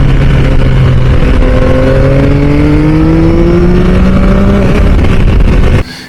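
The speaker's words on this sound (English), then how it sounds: "Having the Akrapovic exhaust fitted as standard, you will not be disappointed by the way this bike sounds." A Yamaha XSR 900GP with a 115-horsepower CP3 inline-three engine and an Akrapovic exhaust revs loud and close, its note climbing steadily for nearly six seconds before cutting off sharply.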